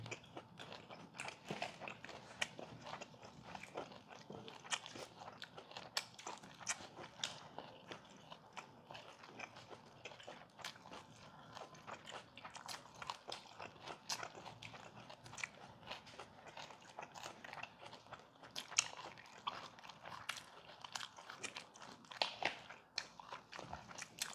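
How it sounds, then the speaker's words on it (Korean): Close, quiet chewing of boiled pork bossam, with a steady stream of soft crunching and wet mastication sounds that continues throughout and has no talk over it. "오랜 보쌈을 먹으니 엄청 씹어야 돼요"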